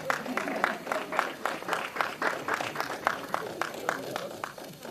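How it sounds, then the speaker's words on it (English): An audience at a Sierra Leone journalists' awards ceremony claps steadily for an award presenter walking up, with a dense patter of hands mixed with crowd murmur throughout. "Please give him an applause as he comes up"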